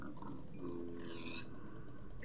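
Pigs in a video game grunt softly over a steady, dense wash of background noise, a low, continuous snuffling with no clear separate calls.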